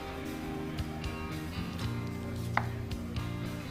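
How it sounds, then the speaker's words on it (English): Chili peppers chopped with a knife on a cutting board in a home kitchen, with soft intermittent taps spread through a steady background of room hum and faint clatter, no voices. "And just chop them up, man."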